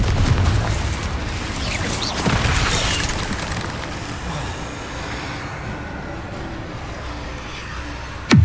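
Confringo fire-blast spell exploding in a Hogwarts video game: heavy booming bursts near the start and again midway, with rumbling crackle trailing between them and another sharp blast right at the end.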